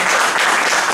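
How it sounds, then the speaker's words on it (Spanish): Audience applause for Henry at a cooperative project gathering, a steady dense wash of clapping from many people. "brindarle un aplauso a Henry"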